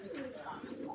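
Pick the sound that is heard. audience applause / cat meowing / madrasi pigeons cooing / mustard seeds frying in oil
madrasi pigeons cooing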